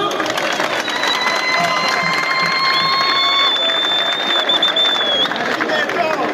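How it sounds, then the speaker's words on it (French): A large stadium crowd at the Stade des Martyrs in Kinshasa cheers and applauds for the president, a loud, continuous roar of voices with whistles and horn-like tones riding over it throughout. "Pouvons-nous applaudir pour notre président?"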